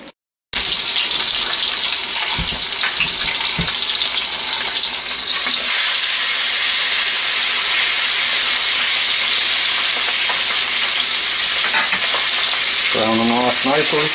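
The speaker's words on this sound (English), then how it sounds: "we're just going to brown them in the pan" Lamb shanks brown in a hot pan with a loud, steady, close sizzle and spatter that fills the whole stretch, with brief clunks of the meat being moved and no talk.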